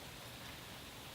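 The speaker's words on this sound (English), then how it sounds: "we're gonna have to get used to the rain, and I'm gonna have to get used to sitting out in it" Rain falls outdoors beside a sheltering overhang where someone is flintknapping obsidian, a soft, steady wash of even patter throughout, faint and with no breaks.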